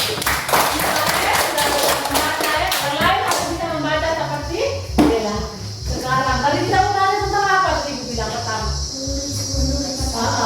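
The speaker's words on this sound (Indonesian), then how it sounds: "Tepuk tangan dulu." A class of pupils claps during an elementary lesson, with quick taps and claps at the start running under group chanting and a teacher's voice; the clapping is moderate in level and fades behind the voices.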